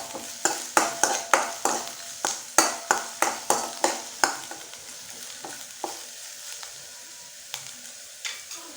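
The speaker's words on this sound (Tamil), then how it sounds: "பாதி வெங்காயத்தை பொடி பொடியா நறுக்கி இது கூட சேர்த்து நல்லா வதக்கி எடுத்துக்கோங்க" Onions, chopped fine, sautéing in oil with curry leaves and chillies for an Indian flat beans stir-fry, with a spoon scraping the pan in a steady run of rhythmic strokes over a soft sizzle that slows and thins toward the end.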